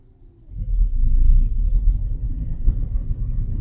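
A John Deere S770 combine's separator being engaged, a deep low rumble that swells in after half a second and holds steady as the machine runs.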